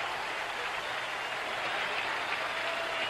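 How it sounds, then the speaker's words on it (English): Football fans in a stadium applauding Kentucky's defense during a 1976 college game against Penn State, a steady wash of clapping and crowd noise, dense and even for the whole stretch. "the fans here applaud Kentucky's defense"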